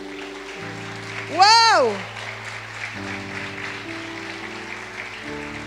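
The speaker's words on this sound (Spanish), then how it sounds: "¡Le damos un aplauso a Susana!" Audience at a church gathering applauds Susana with steady clapping, while one voice whoops an exclamation and a speaker talks over the noise.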